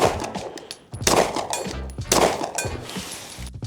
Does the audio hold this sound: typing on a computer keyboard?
no